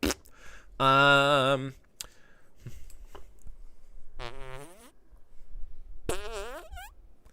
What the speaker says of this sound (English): Or they're just offended by fart noises.